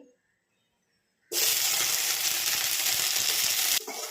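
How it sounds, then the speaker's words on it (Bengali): Raisins fry in ghee over a low flame for a pulao, starting after a quiet moment as a sudden, loud, close sizzling hiss that holds steady, then dips briefly near the end. "কম আঁচের মধ্যেই আমি কিশমিশগুলোকেও ভেজে নিব"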